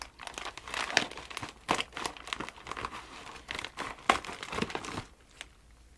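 Paper envelope being cut open up close: crisp crinkling and tearing rustles in irregular bursts, quiet and near, with no speech.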